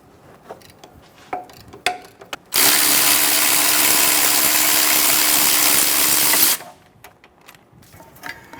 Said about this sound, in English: Using an 18mm socket, remove the caliper bracket bolts.